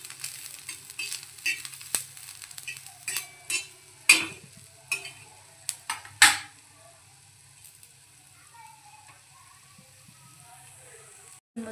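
Ground masala with onion roasting in a pan for a mutton dish: a low background sizzle punctuated by a series of sharp spatula scrapes and clacks that thin out and leave quiet frying near the end.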